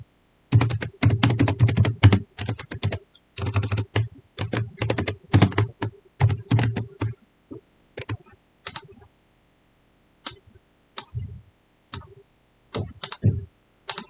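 Close, crisp keystrokes on a computer keyboard: dense rapid bursts of typing at first, then thinning into scattered separate taps and short clusters with gaps of silence, no voices.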